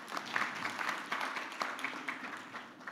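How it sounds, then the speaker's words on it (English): An audience applauds the Minister at a National Communications Authority event in Ghana, a steady patter of many hands clapping in a hall, moderately loud and fading slightly toward the end. "Please give her a round of applause."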